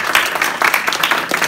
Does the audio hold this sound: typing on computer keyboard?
no